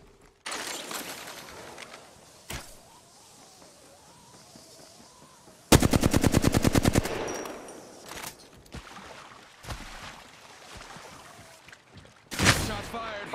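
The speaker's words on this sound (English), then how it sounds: "Shots fired." Gunfire crackles in Apex Legends, a loud burst of rapid automatic shots in the middle, plus scattered single shots and a final volley, mixed with game sounds and someone talking.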